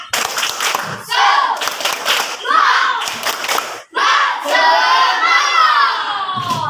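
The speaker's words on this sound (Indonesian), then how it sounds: "Tepuk semangat." Group of children performing a rhythmic spirit clap-and-cheer in a classroom, bursts of sharp claps alternating with loud shouted chants, close and energetic.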